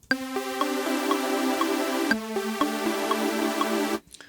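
A thick, buzzy wavetable synthesizer sawtooth tone, 16-voice unison with 20% detune giving a slight chorus shimmer, playing a few sustained notes in sequence, loud and alone before cutting off.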